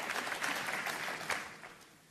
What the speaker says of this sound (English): Applause for a good shot.